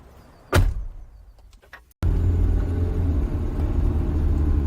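A car door slams once, loud and close, after a moment of quiet movement. A low, steady vehicle rumble then fills the background as the car gets under way, with no talk.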